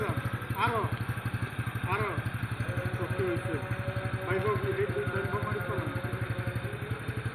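A motorcycle engine chugs steadily with a rapid, even low putter during a riding lesson, close and continuous, while an instructor's voice talks over it.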